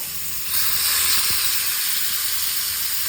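Chicken masala fry cooking in oil on a tawa over a medium flame gives off a steady, close hiss and sizzle that swells slightly after the first half second and then holds even throughout.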